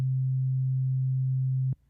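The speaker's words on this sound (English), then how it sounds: "you can hear that it's just making the sound of a sine wave" A steady built-in sine wave tone from GarageBand holds a pure, unwavering low pitch for nearly two seconds, then cuts off abruptly with a small click.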